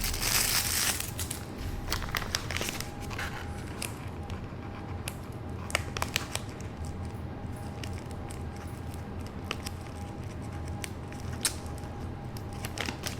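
Cinnamon stick packaging being opened at close range: steady crinkling and crushing of wrapper material with scattered sharp crackles and creaks, fairly quiet and without talk.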